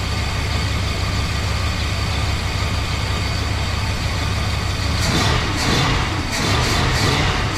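A 1968 Mopar 383 with a four-barrel carburetor and dual exhaust idles close by in a steady, throaty rumble, with a few brief surges near the end.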